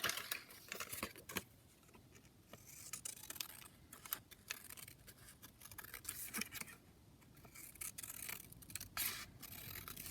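Scissors cutting out a paper journaling card for a handmade booklet pocket, a series of quiet crisp snips and paper rustles in short irregular bursts, close and faint.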